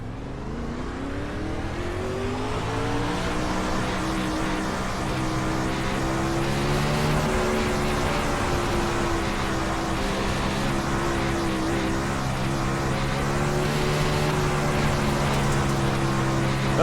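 Winged sprint car lapping a track in the iRacing sim, its engine droning steadily at high revs, pitch climbing and holding through gear changes, loud and continuous with no talk over it.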